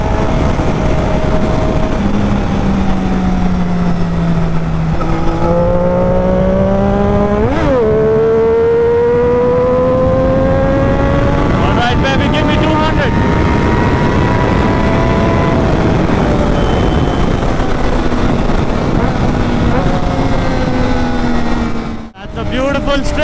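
A Triumph Daytona 675R superbike rides through traffic, its engine droning loud and close with repeated rising revs and gear changes under steady wind rush, pitch climbing and falling across the ride.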